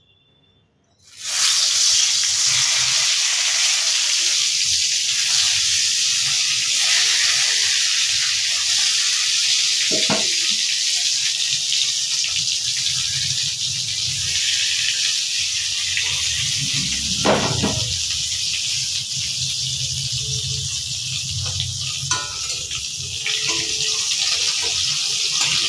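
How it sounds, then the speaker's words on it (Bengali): Eggplant slices coated in salt and turmeric frying in oil give a steady, loud broadband sizzle that runs unbroken for about 25 seconds after a quiet start, with a couple of brief knocks. No one speaks. "বেগুন ভাজা হচ্ছে"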